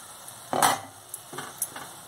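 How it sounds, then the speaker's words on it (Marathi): Pumpkin pieces cooking over medium heat in an uncovered pan, a soft close sizzle broken by a few brief stirring scrapes and clinks, with no talking. "बघा छान शिजतोय आपला भोपळा"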